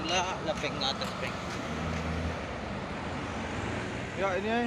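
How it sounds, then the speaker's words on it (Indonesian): A heavy-duty truck sits ready to tow a 6x4 box truck out of a ditch. Its engine rumbles steadily nearby while voices talk over it. "Ya, ini truk HD-nya yang akan mau menarik 6x4 HD."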